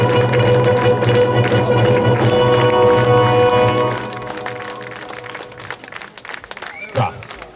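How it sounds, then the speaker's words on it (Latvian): At a brass band festival in Līgatne, loud sustained band tones fill the first half, then give way to a scattered patter of audience clapping welcoming the brass band. "Mēs sagaidām ar aplausiem"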